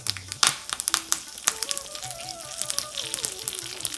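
Curry leaves hit hot oil already holding browned urad dal and mustard seeds, giving a close, crackling sizzle with sharp pops and spatters over background music.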